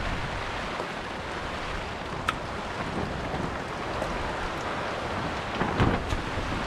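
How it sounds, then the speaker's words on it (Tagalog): Heavy rain pours in a steady, dense roar that covers the whole stretch, with a few sharper splashes and crackles standing out near the end. "Ang lakas ng ulan na ba?"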